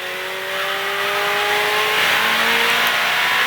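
A Ferrari 488 Challenge Evo accelerates hard on a track at Speed Vegas, its engine note rising steadily in a loud, continuous high-revving wail, heard close with no talking.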